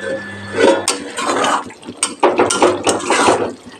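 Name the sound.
lid put on pan of fish curry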